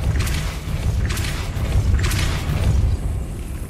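Magical Depulso spell effect, three repeated heavy booming whooshes in quick succession, each a deep thump with a bright rushing burst, over a rumbling low background.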